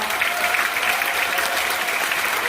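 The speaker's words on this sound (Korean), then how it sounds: "다시 한 번 큰 박수 보내주시기 바랍니다." An audience claps steadily for the Daegu Metropolitan Gugak Orchestra, a Korean traditional music ensemble, with dense, even applause filling the room throughout and no voices.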